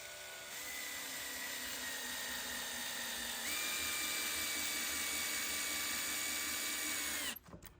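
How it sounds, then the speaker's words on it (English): Power drill boring holes in wood for a fortress door installation, a loud steady high-pitched whine that climbs in speed midway and runs unbroken for several seconds before stopping abruptly with a few clicks. "go the other direction and start drilling it"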